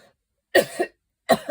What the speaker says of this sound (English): I've had this terrible cough the last few days.